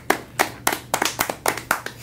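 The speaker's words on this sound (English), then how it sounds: "Everybody give Jake and Bake a round of applause at home." Rhythmic hand clapping, about eight distinct claps in steady beats, close and fairly loud, with no voices.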